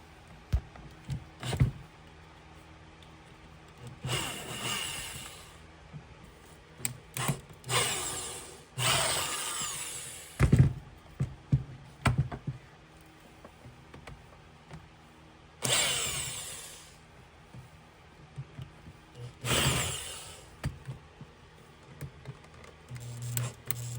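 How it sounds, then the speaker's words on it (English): Handle screws being backed out of a Bosch Bulldog Xtreme hammer drill with a power driver and extension, heard as several short bursts of whirring motor separated by clicks, taps and handling rustle, close and fairly loud, no talk. "So locate those, use the same extension to remove those."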